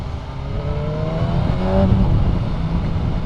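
A 2025 BMW M 1000 R Competition Pack motorcycle accelerates past another rider, its engine note rising and swelling loud and close for a few seconds, with no talk.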